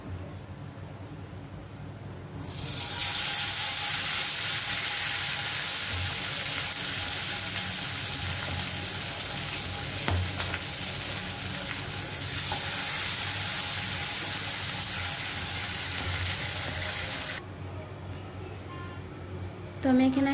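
Tandoori chicken leg pieces, half fried first, sizzle loudly as they roast over a gas flame on a wire rack, a steady broadband hiss that starts abruptly and cuts off near the end.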